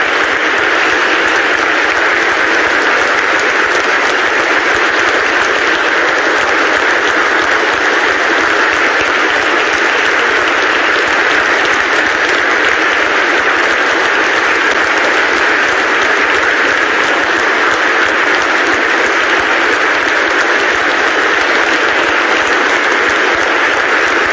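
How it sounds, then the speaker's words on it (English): Stadium crowd in Brighton at a Premier League match, Brighton versus Liverpool, giving a minute's applause for Maradona: a loud, continuous roar of clapping that stays dense and unbroken throughout. "a minute's applause for Maradona in Brighton"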